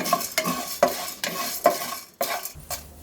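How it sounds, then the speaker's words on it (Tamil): Fenugreek seeds and cumin dry roasting in a pan, a spoon scraping and stirring in regular rhythmic strokes with faint crackling between them, close and clear with no voices. "அரை ஸ்பூன் வெந்தயம் அரை ஸ்பூன் சீரகம் எல்லாமே நல்லா ட்ரை ரோஸ்ட் பண்ணிக்கலாம் சவக்க வறுத்துக்கலாம்"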